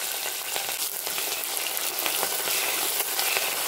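Curry leaves and dried red chillies frying in hot oil, a bright steady sizzle with small crackling pops, close and continuous with no talking.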